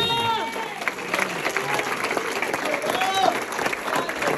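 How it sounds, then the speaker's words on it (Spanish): A church congregation in New Jersey applauds during a Spanish-language worship service: dense, steady clapping fills the whole stretch with a few cheers and whistles mixed in. "Dale un aplauso a Dios."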